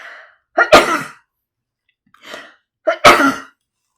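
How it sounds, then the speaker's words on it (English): Two loud, explosive human sneezes, each with a short breathy lead-in, separated by about two seconds of silence, close and clear. "I'm going to sneeze, pardon me."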